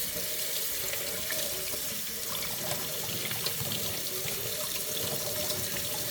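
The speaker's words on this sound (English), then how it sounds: "This was already washed and soaked in water, but I'm just rinsing them off." Steady running water from a tap splashing over quinoa grains in a strainer, continuous and close, with no voices.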